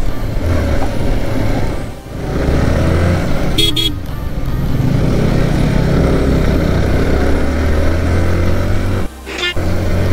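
Dense road traffic roars on without a break, with motorcycle engines and cars passing close and loud and short horn toots cutting through, heard from a motorcycle in heavy bike traffic.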